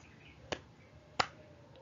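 Two sharp, close hand claps about seven-tenths of a second apart during a primary school science lesson on sound, alone in a quiet room.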